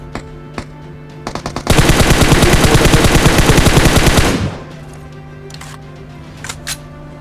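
Automatic gunfire in PUBG Mobile, a loud, dense burst of rapid shots lasting about three seconds, preceded and followed by a few scattered single shots and clicks.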